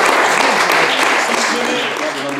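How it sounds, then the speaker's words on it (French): Audience applause at a radio station inauguration, a dense steady wash of clapping throughout, loud and sustained with a faint tonal hum beneath it. "Gabriel, qu'on peut applaudir également, c'est bien."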